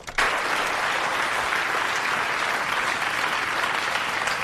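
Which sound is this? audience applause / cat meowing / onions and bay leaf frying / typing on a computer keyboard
audience applause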